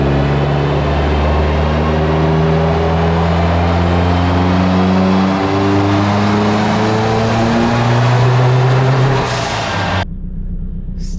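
A car's engine misfires on a dynamometer after its coil packs were swapped: a loud, sustained engine drone whose pitch shifts and climbs for about ten seconds, then cuts off abruptly.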